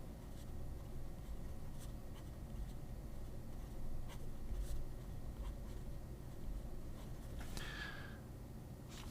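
A Lemon M1 piston-filler fountain pen with a double broad architect nib scratches across paper in a run of soft, close strokes, faint and steady, ending with a brief squeaky stroke and no talking.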